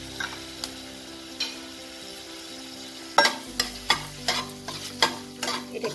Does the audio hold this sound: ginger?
yes